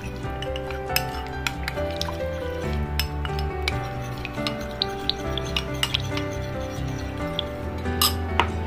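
A spoon stirs custard powder into a little milk in a small cup or bowl, making close, quick scraping rubs broken by light metallic clinks against the side, steady and busy throughout.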